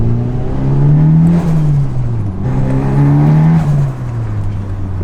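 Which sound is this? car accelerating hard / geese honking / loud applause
car accelerating hard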